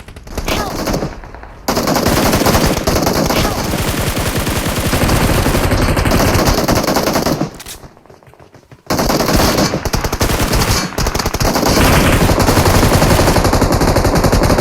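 Automatic gunfire in the battle royale video game BGMI, loud sustained bursts of rapid machine-gun shots with only brief pauses, filling the whole stretch with no talk.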